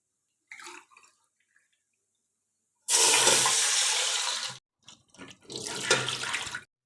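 Four glasses of water are poured in two gushing bursts into a cooking pot over browned cumin seeds, splashing loudly, with a few small clinks and drips between pours.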